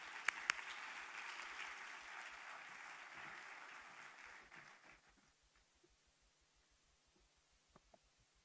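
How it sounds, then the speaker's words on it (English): An audience at a women's business conclave at a Dubai university applauds warmly. The clapping holds steady for several seconds, then fades out into near silence with only a few faint stray sounds. "Please give a round of applause of Dr. Saif."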